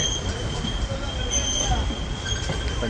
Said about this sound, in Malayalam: ഇതാണ് സബർമതി റെയിൽവേ സ്റ്റേഷൻ അഹമ്മദാബാദിലെ